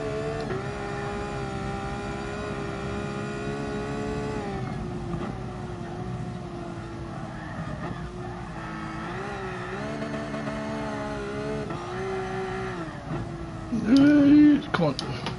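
Car engine in GT Sport racing around the Nordschleife in a drift challenge, a sustained, fairly low revving drone with gear changes and rising pitch sweeps, under a player's talk.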